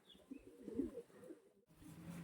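Faint, low cooing from Star Kalanka pigeons, soft and somewhat distant, with a brief drop to near-silence partway through before the murmuring resumes.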